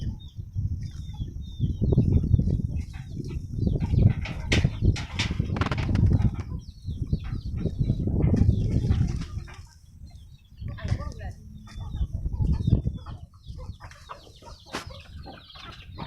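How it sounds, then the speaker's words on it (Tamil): Chickens cluck and fuss close by amid rustling and occasional wing flaps, with people talking intermittently over the birds. "கோழி"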